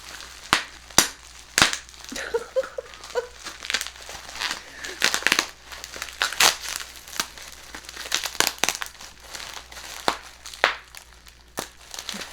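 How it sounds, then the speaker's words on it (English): Bubble wrap with large bubbles is crinkled and popped up close, sharp irregular snaps scattered among softer crackling plastic rustles, with occasional quiet talking. "It's bubble wrap. Can you hear that?"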